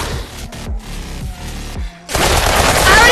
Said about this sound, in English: I'm talking about the shotgun in the game